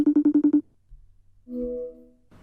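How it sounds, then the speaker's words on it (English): A phone rings with a quick run of six short electronic pulses, then a brief pause and a longer sustained tone, with no voices. "And all of this started inadvertently from a single surprise phone call."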